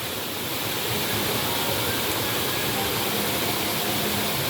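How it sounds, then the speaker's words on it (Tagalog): Steady broadband rush of clean flowing stream water near a waterfall in a nature setting, continuous and fairly close, with no voices over it. "meron ding umaagos na tubig"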